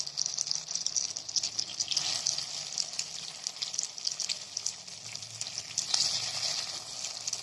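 Vermicelli-and-egg paniyaram batter sizzles in a hot paniyaram pan: a steady, close frying hiss with soft bubbling crackles that runs the whole time, with no one speaking.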